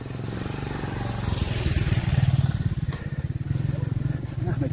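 A motorcycle engine drones close by during a group bike ride on a hilly Malaysia loop route, its mid-pitched rumble swelling and fading over a few seconds while people talk over it.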